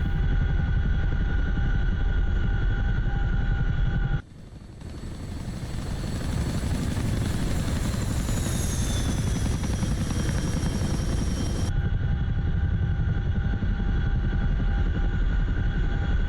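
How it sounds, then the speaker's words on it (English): CH-47F Chinook tandem-rotor helicopter in the DCS flight simulator, a loud steady rotor and turbine roar that swells into a heavier, chopping rotor bite for several seconds mid-clip before settling back to the idle drone. "Do you love the rotor bite sound when you load up the rotors? Those tips biting into the air."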